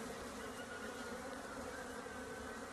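A dense, continuous buzzing swarm of agitated honeybees surrounds a beekeeper at the hive, loud and steady throughout with no pauses or speech.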